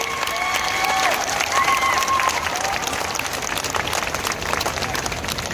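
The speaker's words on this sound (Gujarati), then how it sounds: "તાળીઓની બંધ રાખીશું, તાળીઓ ચાલુ રાખીશું." A large crowd at an outdoor political rally welcomes Arvind Kejriwal with sustained, dense applause. The clapping is loud and continuous, with faint tones and voices mixed in the background.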